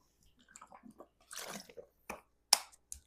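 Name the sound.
drinking water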